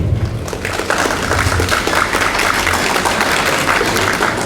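An audience at a university semi-final competition in Bamako applauds steadily, a dense wash of clapping that holds at a fairly loud level for several seconds.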